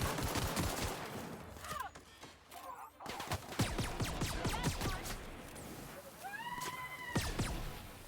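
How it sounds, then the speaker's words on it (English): Electric pistol shots from The Outer Worlds video game, a string of sharp repeated blasts with zapping tones and scattered hits, fairly loud, with a voice speaking briefly amid the firing. "I enjoy this simple, like, electric pistol."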